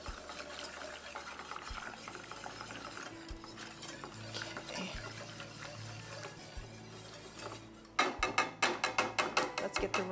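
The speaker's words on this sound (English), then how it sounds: "let's whisk it to make sure that the cornstarch is completely melted and blended in with the rice pudding" Vanilla and cornstarch being whisked into a pot of rice pudding: a steady scraping swirl of the whisk against the pot, then a faster run of sharp, rhythmic strokes toward the end, close and fairly loud with no talking.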